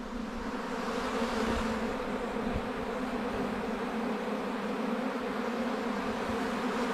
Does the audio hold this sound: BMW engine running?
no